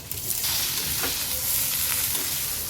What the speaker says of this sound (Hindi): तो हमारा तड़का तड़क गया है, अब डालते हैं इसमें मिर्ची आमी को।